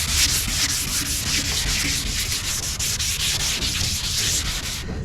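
Hand sanding a car body by block before spray painting, a close, loud, rhythmic back-and-forth rasp of quick repeated strokes, with no one speaking.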